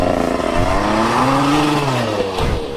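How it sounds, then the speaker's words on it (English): A KTM 300 dirt bike revs hard while its wheel spins in mud during a burnout, the engine pitch rising and falling in loud, close sweeps with a rough, gritty edge throughout. "It's literally doing a burnout."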